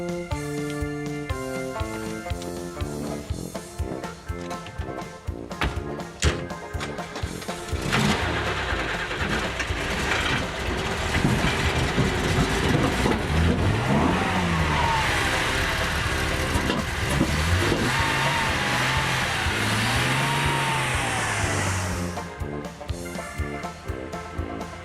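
A 1963 Porsche and a silver Mercedes SL start up one after another, the engines catching, idling and revving before pulling away with rising acceleration, loud and close throughout.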